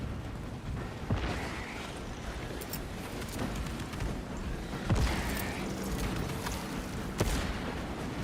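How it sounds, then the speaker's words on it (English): Frag grenade blasts and gunfire in Warhammer 40k Space Marine 2, with several sharp explosive bursts spread over a steady din of combat noise. "Deploying frag grenade."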